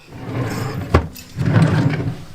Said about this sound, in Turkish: çekmeceye koyacağım ama çekmecede tabii ki de yer yok